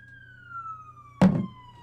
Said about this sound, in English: Oh, we got some sirens here,